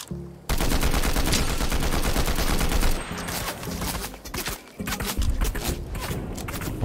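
Dense bursts of enemy gunfire in a Fortnite match, rapid cracks firing almost continuously and loud for the whole stretch, with a brief dip in intensity midway before the shooting resumes.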